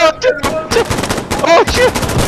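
Rapid rifle gunfire in the shooter game Insurgency Sandstorm, a dense close burst of loud shots in quick succession, with bits of shouted voice between them.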